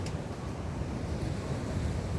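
Seaside waves wash at Barangay Santa Lucia beach in Tigbauan, Iloilo, near an esplanade under construction; a steady low rumbling surf blends with wind buffeting the microphone, and no one speaks.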